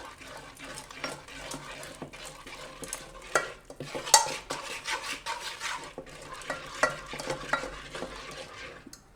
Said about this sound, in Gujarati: તો પહેલાં થોડી છાશ નાખીને એને મિક્સ કરી લેવું આ રીતે, એટલે ગાંઠા ન પડે એમ